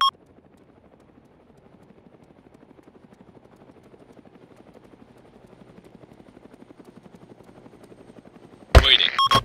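An Apache attack helicopter in the Arma 2 video game gives a faint, steady rotor thump that slowly builds. It ends in a sudden loud burst of engine and rotor noise.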